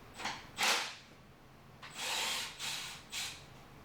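Short bursts of a small power driver backing out 8mm screws in the engine bay of a C8 Corvette, four or five brief whirs separated by pauses, close and fairly quiet.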